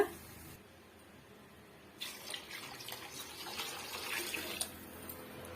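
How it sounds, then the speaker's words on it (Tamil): Water added to tomato rasam in a pan: after a quiet start, soft splashing and trickling pour in and continue unevenly, faint and close, with no talk. "இப்ப தேவையான அளவுக்கு நம்ம தண்ணி சேர்த்துக்கலாங்க"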